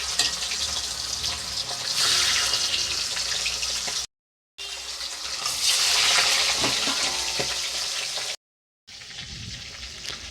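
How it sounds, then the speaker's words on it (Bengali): Boal fish frying in oil in a covered pan, a steady loud hiss and crackle that swells and eases, broken by two brief silent cuts. "তো মাছটা আমি হালকা হালকা করে ভেজে নিচ্ছি"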